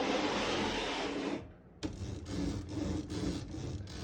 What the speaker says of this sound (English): it's moving the ribbon when you move the carriage